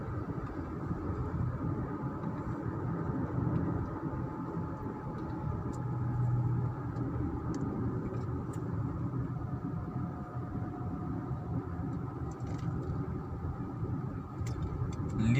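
A car drives along a narrow forest road near Istra, with a steady low rumble of engine and tyres heard from inside the cabin and no pauses.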